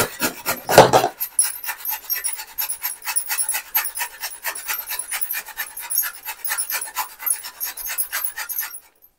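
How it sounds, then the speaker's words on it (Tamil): Beetroot scraped against the fine side of a hand grater, a brisk rhythmic rasping of quick repeated strokes, close and fairly loud, with no talking. "பொடியா இருக்கிற சைடு நான் சீவி எடுத்துக்கிறேன்"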